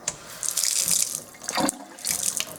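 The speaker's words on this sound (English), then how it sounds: "And I'm going to turn the tap on." A kitchen-style tap turned on, water running and splashing into a sink in a bright steady rush with short breaks and drips, close by and fairly loud, with no talking.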